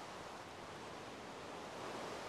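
Steady broadband hiss of rain falling in a blocky sandbox video game, a constant even wash with no breaks and no voices.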